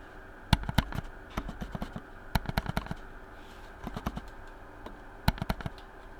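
Logitech MX Master 4 mouse buttons clicking with a softer, dampened, rounder tone, close and quiet, in scattered bursts of several clicks over a faint background hum, with no talking.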